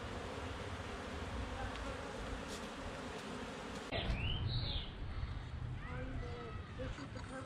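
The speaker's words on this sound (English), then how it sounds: "This is considered a swarm, right? Oh yeah, now they're firing up." A honey bee swarm hums in a steady, dense outdoor buzz that carries throughout at low level, with people talking over it and a brief bird call.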